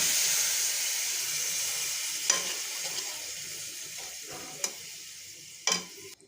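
Koi fish curry sizzling steadily in a pan with occasional sharp stirring scrapes, the frying hiss fading gradually as water goes in.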